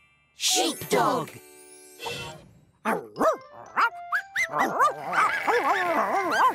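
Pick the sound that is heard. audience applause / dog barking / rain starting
dog barking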